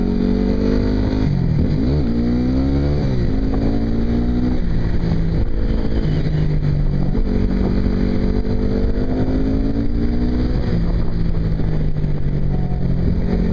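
A Yamaha WR250R motorcycle engine revs hard through a power wheelie, its loud buzzing note climbing and dipping with throttle changes, then settling into a steady drone under wind noise.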